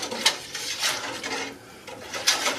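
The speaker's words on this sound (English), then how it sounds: "1 cup at a time, we're going to whisk it until it is smooth" A whisk scrapes and clatters in a bowl as clear gel is stirred into strawberry pie filling, irregular rhythmic strokes with a couple of sharper clinks, close and fairly quiet.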